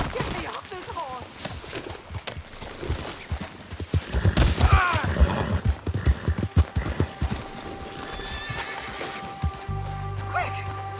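Red Dead Redemption 2 horse, with clip-clopping hooves and a loud whinny in the middle, heard amid shouting voices and game sounds.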